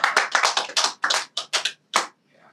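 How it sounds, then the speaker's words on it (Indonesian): A short burst of hand clapping at a Catholic political debut event, about ten sharp, separate claps in a loose rhythm, close and fairly loud, then fading out. "Kita tepuk tangan dulu untuk Reko"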